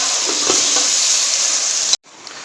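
Grated carrots bubbling in sugar syrup for gajar ka murabba, a loud steady sizzle and hiss with a few stirring knocks, cutting off abruptly before a quieter simmer resumes.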